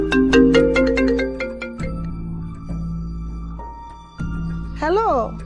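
A phone ringtone plays in a domestic drama scene, a repeating electronic melody with bright, warbling tones that changes pattern a few times, heard alone with no talking over it.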